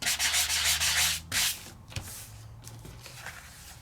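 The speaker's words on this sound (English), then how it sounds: "my sanding block is able to hit it, take off that top layer of paper" A sanding block rubs over raised, die-embossed paper to strip away its top layer, giving loud, close scratchy strokes in quick repeated passes before tapering to lighter, intermittent rubbing.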